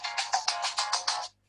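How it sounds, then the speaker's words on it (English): A mobile phone rings with a rapid pulsing electronic tone, about six quick bursts over a second and a bit, then cuts off into silence; fairly faint and heard alone. "That was my phone going off."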